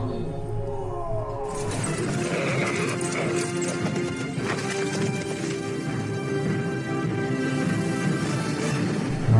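A horse in a battle scene of the 2015 epic film Baahubali, with hoof clatter and a whinny amid loud crashing, roaring action and a dense score throughout, no talk.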